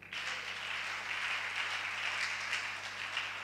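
A church congregation applauds during a Sunday worship service, a steady wash of many hands clapping together that holds at an even level from start to finish without pause.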